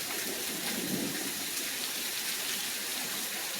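Heavy rain pouring down on a roof after a long dry spell, a dense continuous hiss of drops with steady intensity throughout and no voices.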